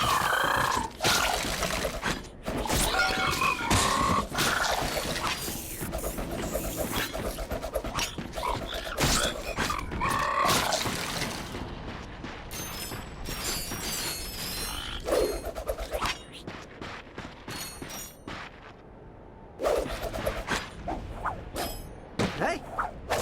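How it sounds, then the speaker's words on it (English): Wooden crates break apart in Ratchet and Clank: Rift Apart, a rapid series of sharp smashing cracks and whooshes with game effects, loud and busy, then thinning into scattered hits and clatter. "Look at him smashing crates."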